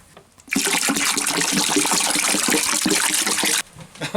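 Water gushes steadily for about three seconds, a loud splashing pour into a square wooden bucket, starting and stopping abruptly.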